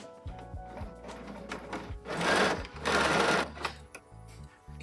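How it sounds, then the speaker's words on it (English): Sewing machine stitching a rope basket, short bursts of rapid mechanical chatter separated by pauses, close and clear, with a louder whirring stretch in the middle. "and then I just continue sewing."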